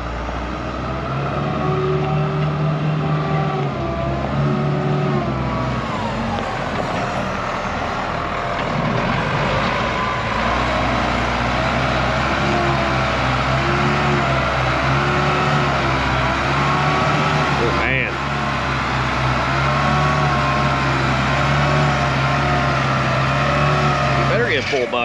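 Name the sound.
vehicle driving off after being put in drive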